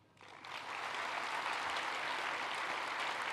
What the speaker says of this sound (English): let's give her a big round of applause for the 2023 John Hayes Award